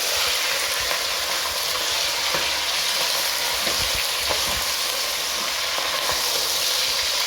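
Pilau rice with beef sizzles steadily in a pot while it is stirred, with soft scraping and clinking strokes from the spoon against the pot scattered through a continuous close frying hiss.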